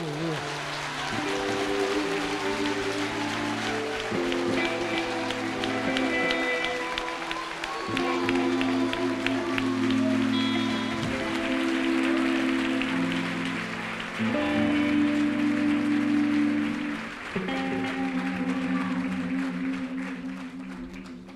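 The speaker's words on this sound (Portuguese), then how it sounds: "Quem pode dar um aplauso ao Senhor?" A church congregation applauds together at an evening service, a steady broad clapping that swells and dips in waves for about twenty seconds, with music and voices mixed in underneath.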